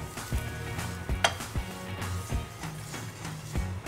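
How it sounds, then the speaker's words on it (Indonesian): Cereal sizzles as it is stir-fried in a pan for cereal prawns, a steady frying hiss broken by repeated close scrapes and knocks of the utensil against the pan. "kita bisa masukkan 1 mangkok sereal dan tumis selama 2-3 menit saja"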